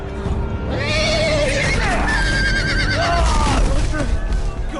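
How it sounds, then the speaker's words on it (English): Horse neighing in a Game of Thrones adventure video game, a loud, close whinny with rising and falling pitch, with game audio and other sound mixed underneath. "Oh my god, a horse."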